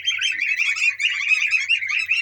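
Many small birds chirping together in a continuous, busy twittering chorus, close and fairly loud, with no talking.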